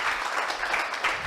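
Applause for a professor at the close of a lecture session, a steady wash of many hands clapping together at moderate loudness for the whole moment, with no voices over it.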